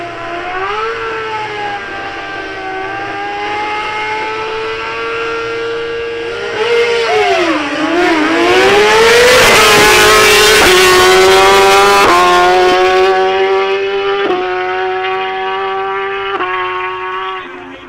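BMW RR motorcycles drag racing at the SA Drag Nationals Northerns at Midvaal: a loud engine howl climbs in pitch, dips briefly, then surges and steps upward through several quick gear changes, sustained and close, with no talk over it.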